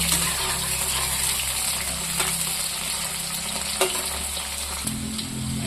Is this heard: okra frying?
yes